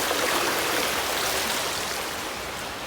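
A river flows under a bridge as a steady, dense rush of water, close and constant with no talk over it.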